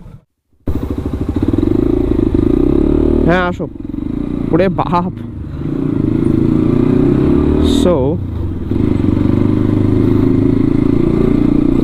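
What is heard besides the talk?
Hero Xtreme 125R motorcycle riding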